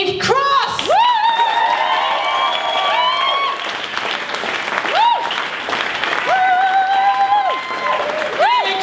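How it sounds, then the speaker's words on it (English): Festival audience at a science festival applauding and cheering, with sustained clapping throughout and whoops and high shouts rising over it in bursts, close and loud. "So can we get a big round of applause for Dr."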